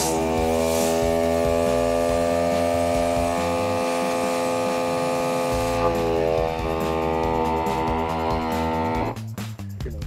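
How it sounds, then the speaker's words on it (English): A new ARB brushless air compressor runs loud and close with a steady electric hum and buzz throughout, its pitch shifting slightly midway before the sound drops off near the end. "we're gonna measure the noise output of the new brushless compressor"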